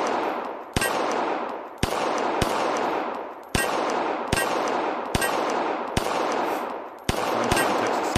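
Gunfire in a VR practical shooting game at a Texas Star steel target: a steady string of about a dozen sharp, loud shots at even intervals, each trailing into a noisy wash, with no talking.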